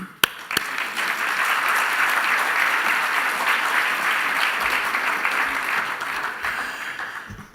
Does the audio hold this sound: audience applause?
yes